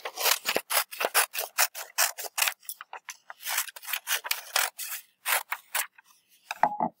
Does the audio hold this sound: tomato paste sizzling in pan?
no